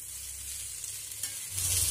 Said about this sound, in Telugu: మీడియం ఫ్లేమ్లో బాగా ఇలా ఫ్రై చేయండి వీటన్ని.